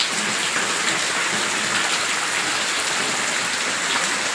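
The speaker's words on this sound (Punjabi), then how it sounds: "ਇੰਨਾ ਜ਼ਿਆਦਾ ਮੀਂਹ ਪੈ ਰਿਹਾ" Heavy rain pours steadily, a dense, continuous hiss of drops hitting surfaces close by, with no voices.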